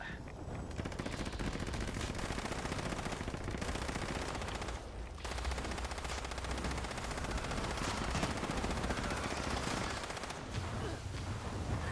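Rapid automatic gunfire rattles almost nonstop in Fallout 76, with dense bursts of shots continuing over several seconds at a low overall level.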